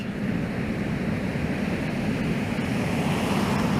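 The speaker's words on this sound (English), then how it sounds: "The surf is pretty calm today." Calm ocean surf on a beach where fishing is under way: a steady, even wash of small waves and breeze with no voices.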